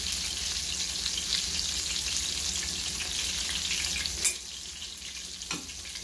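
Fish frying in a pan gives a steady, close hiss and crackle of sizzling oil throughout, with a sharper clink near the end.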